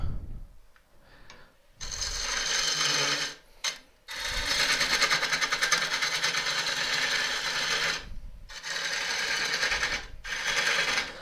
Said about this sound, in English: Just use a meaty gouge just to take this out.